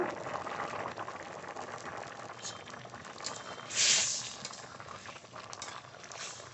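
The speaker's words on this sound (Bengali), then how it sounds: "জাল উঠে গেছে তরকারিতে" Pumpkin and shrimp curry bubbling in a pot, a continuous gentle boil and simmer with a brief louder hiss partway through, under quiet background sounds.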